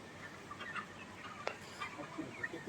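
Large chickens on a poultry farm clucking intermittently, several soft calls at middle distance over a steady background hum, with no talk.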